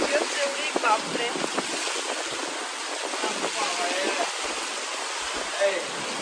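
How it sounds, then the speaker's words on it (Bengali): Heavy rain pours down steadily, with water collecting and pooling on the ground, a dense continuous wash of sound up close, while voices talk intermittently over it. "প্রচুর বৃষ্টি হচ্ছে।"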